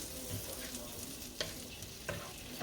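Butter sizzles in a pan as a roux begins for ground beef stroganoff, a steady soft crackle broken by a few sharp stirring clicks, close and fairly quiet, with no talk.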